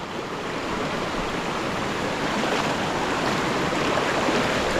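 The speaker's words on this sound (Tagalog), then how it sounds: "pagkalakas pa ng agos, kahit po malinaw" Floodwater rushes in a strong current, giving a loud, steady roar of running water that continues unbroken throughout and is heard up close.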